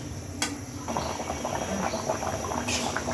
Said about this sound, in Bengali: তরকারি ফুটে উঠছে